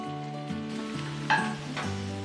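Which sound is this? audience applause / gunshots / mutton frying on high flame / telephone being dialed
mutton frying on high flame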